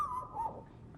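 A person imitates a small dog with a short, high-pitched yip, a thin whimpering tone, then a brief second yelp, heard close over a low background murmur.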